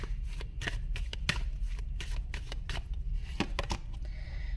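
A deck of tarot cards being shuffled, with repeated riffling and flicking bursts running steadily throughout at close range, no talk.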